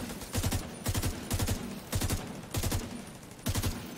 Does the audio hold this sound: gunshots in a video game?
yes